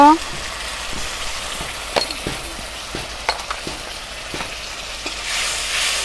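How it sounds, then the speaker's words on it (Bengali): Ginger, cumin and dried red chili paste frying in a pan, stirred with a spatula in a few sharp scraping clicks over a soft, steady sizzle, close by, while someone talks. "এবার নেড়ে চেড়ে নেবো একটু"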